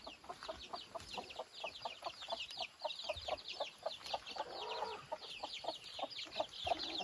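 A hen clucks at dusk in a rural yard, giving repeated soft clucks in a steady rhythm, moderately close, with other chicken calls around and light ambient noise.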